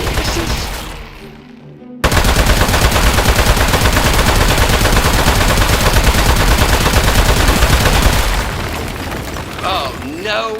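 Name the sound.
gunshots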